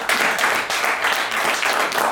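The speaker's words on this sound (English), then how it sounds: "So let's give him a big round of applause." Steady, dense applause fills a room for boxer Zolani Tete at a press event, many hands clapping together in a loud, continuous wash with no voices standing out.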